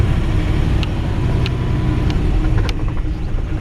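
A 1963 Ford F-100 pickup truck backs up in reverse, its engine giving a steady, loud low rumble throughout with a few faint higher clicks on top.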